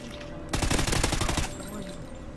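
Call of Duty: Ghosts gunfire erupts as a rapid burst of loud automatic shots lasting about a second, close and sharp, then cuts off into quieter game background.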